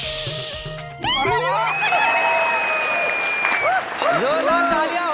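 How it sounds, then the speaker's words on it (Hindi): Audience applause on a Hindi sitcom set, a burst of clapping that starts abruptly after a second and carries on loudly, mixed with whistle-like tones and scattered chuckles. "जोरदार तालियां हो जाए लाल टोपी वाली का"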